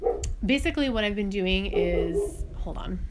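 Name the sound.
dog barking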